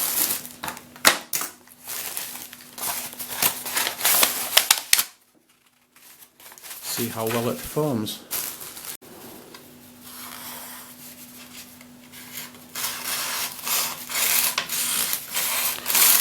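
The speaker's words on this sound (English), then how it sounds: "let's try this knife on some paper first" A cheap Aliexpress knife cutting and tearing through paper: sharp scratchy rips in bursts, a short silent pause, then a longer rasping tear, close and loud, with a brief spoken line in between.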